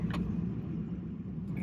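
Low, steady engine rumble heard from inside a truck on a ranch, a close idling drone throughout with a faint click at the start and end.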